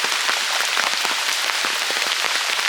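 Dense, steady heavy rain pours down, a constant hiss with patters of drops striking a surface nearby. No voices.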